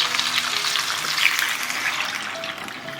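Boiling water is poured into hot oil over sliced radish, duck feet, shiitake and ginger in a pot, giving a loud, steady sizzling hiss and bubbling that runs through the whole stretch with no voices.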